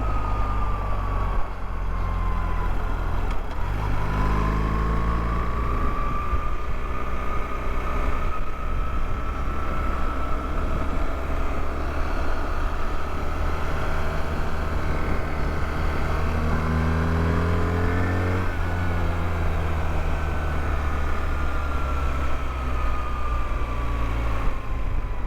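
A 2024 BMW R1300GS motorcycle ridden on a hard ride through corners, its engine droning steadily and rising and falling in pitch as it shifts and accelerates, with heavy wind rush throughout and no talking.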